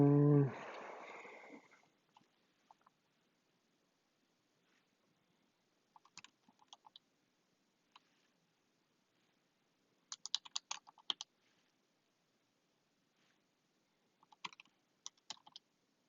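Bursts of computer keyboard typing, scattered key clicks in short clusters separated by quiet pauses, fairly close and soft after a brief breathy noise at the start.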